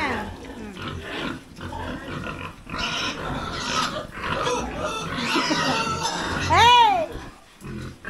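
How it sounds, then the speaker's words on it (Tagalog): Pigs squeal and grunt as they fight over feed in a farm pen, a dense, continuous scramble of noisy squeals with one loud rising shriek near the end; a person briefly shouts over the commotion. "Ayan, they are fighting. Nag-aaway sila guys. Dahil sa pagkain."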